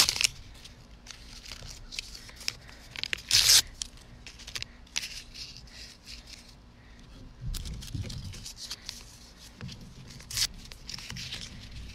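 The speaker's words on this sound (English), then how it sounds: "you just want to tear up your paper into some small pieces" Scratch paper is torn into small pieces for making fire starters, the crisp ripping coming in short close bursts separated by quieter rustling and handling.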